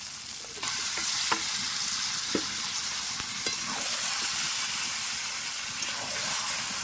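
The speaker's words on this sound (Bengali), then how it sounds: "এবার দেখো কেটে রাখা চিকেনটা দিয়ে দেবো" Chicken pieces hit a pan of cooked-down spices and fry with a loud, steady sizzle and hiss, broken by scraping stirs and small clinks at the near edge, with no voices.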